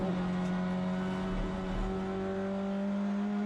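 A British touring car engine drones loud and close at steady pitch on a wet circuit near Old Hairpin, with a brief dip and low rumble as it downshifts, then climbs again.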